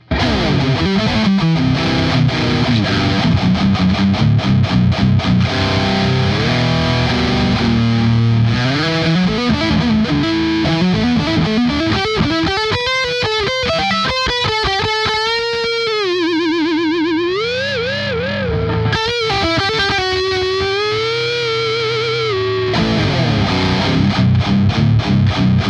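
A Schecter Banshee GT FR electric guitar on its bridge pickup plays heavily distorted metal, with loud, dense chugging riffs and bending lead lines running continuously throughout.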